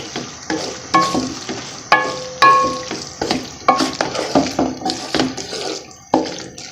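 A spoon scrapes and stirs spiced liver with ginger and fresh coriander in a pot, close and fairly loud, with wet clacks and scrapes in an irregular rhythm and a soft sizzle beneath.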